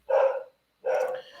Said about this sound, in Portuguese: Peço desculpa se você estiver escutando um cachorro latindo de fundo